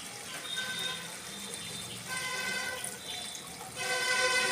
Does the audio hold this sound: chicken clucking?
no